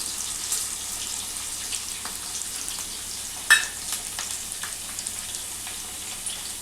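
Ginger garlic paste and fenugreek leaves fry in a pan, giving a faint, steady sizzle with one sharp click partway through.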